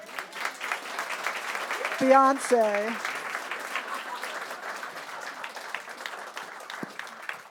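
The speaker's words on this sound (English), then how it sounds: "a round of applause" Applause from an audience at a talk on Bauhaus graphic design runs throughout, moderately loud, with a brief spoken word and a voice cutting through near the middle.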